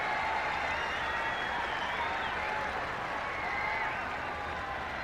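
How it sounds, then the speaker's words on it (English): Sustained applause and crowd noise from spectators at a Bangladesh versus West Indies one-day cricket match in Jaipur, a dense continuous wash of clapping heard from a distance across the ground. "Crowd are loving it now"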